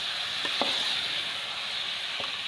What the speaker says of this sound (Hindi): अब इसे ना अच्छी तरह में भूनते हैं